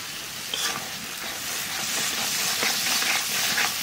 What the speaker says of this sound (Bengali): মশলা কষায় নিছি